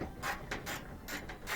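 A ratchet fitted with a 1/2 inch socket loosens a 1/2 inch bolt on a Whirlpool laundry center washer assembly, giving rapid repeated clicking bursts, close and moderately loud, with no talking.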